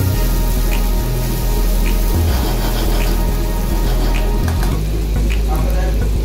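Garlic and chopped onion sautéing in a hot pan for beef stroganoff, giving a steady, loud crackling sizzle with soft stirring scrapes, close by and with no talking.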